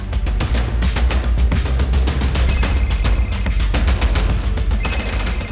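A mobile phone rings on and on with repeated incoming calls, a loud, insistent electronic ringtone repeating in fast pulses throughout, near and unaccompanied by speech.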